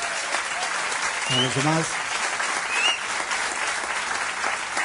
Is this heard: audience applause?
yes